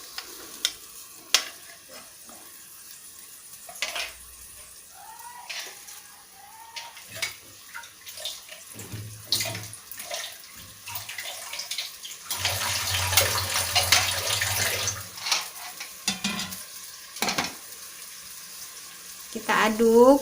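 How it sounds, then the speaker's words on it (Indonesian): Blended spice paste for vegetable lodeh is stirred in warm oil in a pan. Soft scraping and gentle sizzling come and go over about twenty seconds, with watery splashy stretches and brief voice sounds. "Kita aduk bumbunya yang sudah kita blender tadi."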